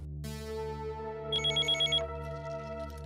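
A telephone rings with an incoming call, a sustained tonal ring joined midway by a quick pulsing trill of about six rapid beats, then fading back to the steady tone, fairly soft with no talk.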